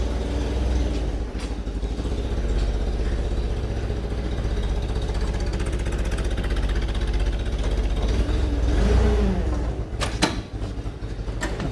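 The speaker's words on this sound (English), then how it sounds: "Come on, forklift, keep going." A forklift engine drones and revs steadily while moving a boiler, a loud low mechanical hum with a surge near the end and a few metallic clanks.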